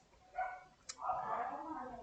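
A dog barks faintly in the distance, giving a short yelp followed by a longer drawn-out bark, with nothing else prominent around it.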